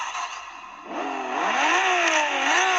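A Ferrari engine sound effect from a GT Power RC sound and light kit plays loud and alone, a smooth idle rising into revving swells that climb and dip in pitch.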